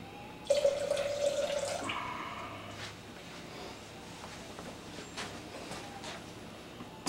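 Tap water runs into a container while measuring water for soap making, a soft steady flow that starts abruptly, then fades into quiet trickles and drips, heard alone at low volume.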